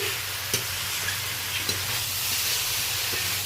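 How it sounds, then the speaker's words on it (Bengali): Fried potato and green banana pieces are sautéed with spices in a pan, a steady hissing sizzle with a few brief spoon taps, close and unaccompanied by speech. "মশলার সাথে ভালো করে ভেজে রাখা আলু আর ভেজে রাখা কলাটা ভালো করে আমি কষিয়ে নিলাম।"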